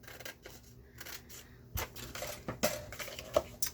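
Scissors cutting off the paper flap of a vintage junk-journal memory album, a few crisp snips and rustles close by, fairly quiet, with no talking.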